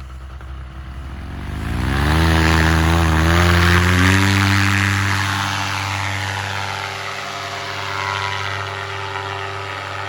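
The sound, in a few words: paramotor engine and propeller during takeoff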